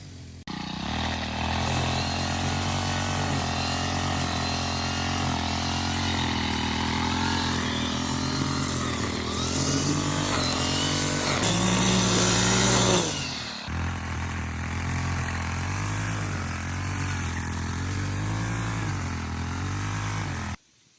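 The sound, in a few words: weed whacker string trimmer engine running in garden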